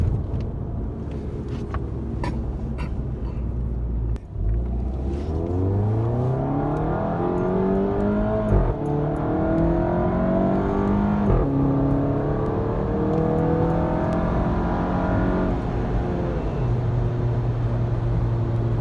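VW GTI MK7 with a DSG gearbox accelerates through several gears, its engine pitch climbing and dropping at each shift under steady road rumble, heard from inside the car.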